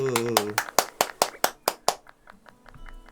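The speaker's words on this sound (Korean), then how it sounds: "박수" About nine sharp hand claps in a steady, even rhythm, close and distinct, following a brief voice at the start and fading into quiet background sounds.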